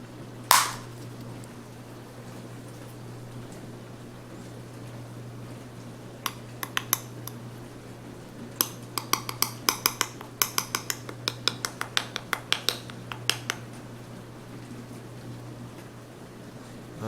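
Tablespoons scoop cinnamon into a bowl of keto snickerdoodle fat bomb mix. A sharp knock comes first, then after a quiet stretch a run of light, irregular clinks and taps, close and soft.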